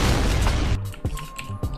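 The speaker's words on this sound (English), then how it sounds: "I shot your rocket by accident." A rocket fires and explodes in Fortnite: a loud, dense blast-like roar, then it cuts off and a few lighter pops and thuds follow.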